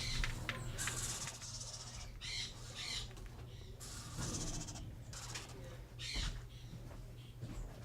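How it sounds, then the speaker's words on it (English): Screech owl chicks at a Florida seabird rescue give repeated raspy, hissing screeches and squawks. The bursts come again and again over a steady low hum, fairly close and moderately loud. "These are screech owls."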